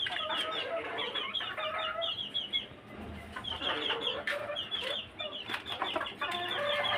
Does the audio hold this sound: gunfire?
no